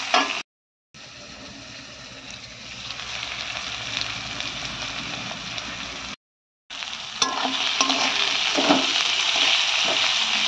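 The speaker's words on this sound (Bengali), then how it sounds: "তারপর পেঁয়াজটা ভাজা হয়ে গেছে, একটু টমেটো দিয়ে দিলাম।" Onions and tomato frying in a pan in a Bengali home kitchen, a steady close broadband sizzle with light stirring scrapes, briefly cut out twice, then louder and crackling toward the end.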